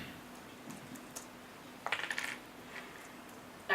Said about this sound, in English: You can hear the little tiny bit of typing.